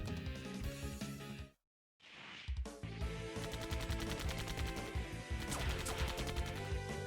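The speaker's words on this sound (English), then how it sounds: "Main cannon, fire!" A ship's main cannon fires in the video game Fantasy Maiden Wars: after a short silence a loud crashing volley erupts and rolls on amid game music.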